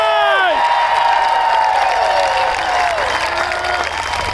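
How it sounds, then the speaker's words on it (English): A large crowd at an outdoor rally claps and cheers loudly for the park police, with whoops and shouts rising over steady applause throughout. "Big round of applause for the park police."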